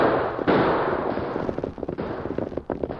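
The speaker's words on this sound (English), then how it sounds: "That shooting seems to be on the trail ahead of us." Radio drama gunfire sound effect: a dense, loud volley of cracking shots rattles close by, overlapping in rapid irregular bursts across the whole moment.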